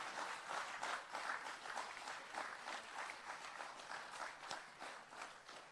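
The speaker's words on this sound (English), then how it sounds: "please join us in giving a rousing round of applause to our landowners" Audience applause for landowners at a land titling ceremony in Jamaica, a steady, dense patter of many hands clapping throughout, moderately loud with faint crowd noise mixed in.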